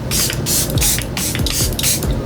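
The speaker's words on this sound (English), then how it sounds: "Let's set our face with our Charlotte Tilbury spray." Repeated bursts of fine hissing face setting spray, four or five short pumps in a steady rhythm, close and fairly loud, with light clicks between them.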